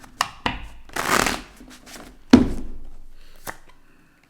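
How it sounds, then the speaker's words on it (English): Tarot cards are riffled and shuffled in several quick bursts, with crisp flutters and sharp taps, close by and without speech. "Get 3 more shuffles."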